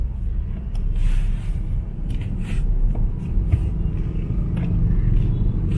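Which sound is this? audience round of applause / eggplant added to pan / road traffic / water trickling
road traffic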